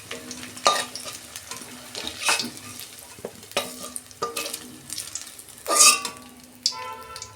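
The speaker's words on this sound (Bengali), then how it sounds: "ওই তেলে আমি কপিগুলো ভেজে নিচ্ছি।" Cauliflower pieces fry in hot oil in a pan, sizzling steadily close up while a ladle stirs and scrapes at irregular intervals.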